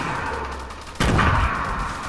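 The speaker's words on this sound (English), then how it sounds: "Oh, that's a silenced pistol." Suppressed pistol fire in a video game duos match, a sudden muffled burst of shots beginning midway through and continuing over steady background game noise.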